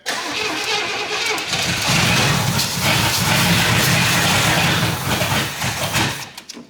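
A 1977 Pontiac Grand Safari station wagon engine cranks and catches, then runs roughly and loudly for several seconds before sputtering and dying.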